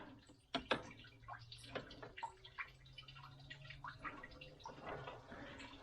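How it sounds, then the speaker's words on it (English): Coolant drains from the underside of a 2007 BMW 328i E90 engine, giving faint irregular drips and gurgling trickles along with a few sharp clicks. "I got it draining from the bottom."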